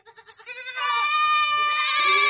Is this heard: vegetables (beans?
no